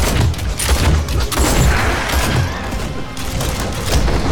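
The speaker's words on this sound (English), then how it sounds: "you can see that my other alchemist is shooting out multiple shots" Rapid bursts of gunfire-like shots from an alchemist character in the video game Nosgoth, dense and continuous with booming impacts layered throughout a noisy combat mix.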